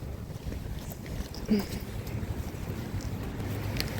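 Low, blustery wind noise rumbles across the microphone in a cold late-October park, with faint voices and a brief squeak in the background.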